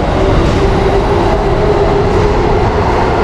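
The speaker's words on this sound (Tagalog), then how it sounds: "Papuntang Hashimoto yung tren na sinakyan natin." Commuter train in Tokyo heading toward Hashimoto, a steady loud rumble of wheels and carriage noise heard from inside the car, continuous with no talking.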